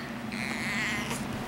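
A cat gives a single drawn-out, hoarse meow that sounds slightly strained, close and clear over a low steady hum.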